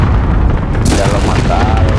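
Cluster strike explosions in Call of Duty Modern Warfare team deathmatch: loud, dense rumbling booms that overlap continuously, with a sharp bright blast surging in partway through and the roar sustained to the end.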